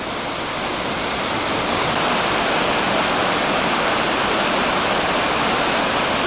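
River falls on a Scottish river pour in a steady, loud, unbroken roar of rushing water that fills the whole stretch without pause.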